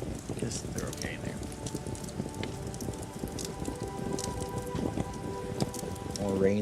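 Steady rain falls across a surface in the video game Pax Dei, a dense even patter with scattered drops, continuous and fairly close, with faint talk beneath it.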